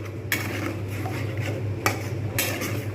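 Metal spoon scraping and clanking against a pan while egg korma masala is stirred and fried in oil, a few sharp knocks over a low steady sizzle, close up, no talking.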